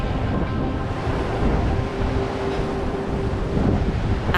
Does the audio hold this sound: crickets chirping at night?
no